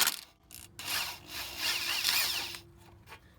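Up close, a 10mm socket loosens the bracket holding the ABS wires on a strut of a Dodge Grand Caravan, giving a short stretch of grinding, rasping turning noise in several uneven surges without any talk.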